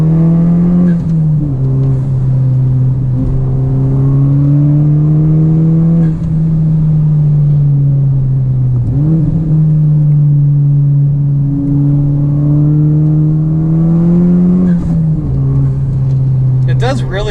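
A Honda Civic Type R fitted with rolling anti-lag accelerates hard, a loud sustained engine drone rising and falling in pitch through several gear pulls, heard from inside with people talking over it.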